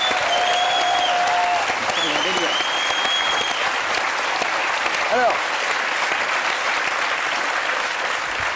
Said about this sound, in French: Et une salve d'applaudissements pour Camille Safiris.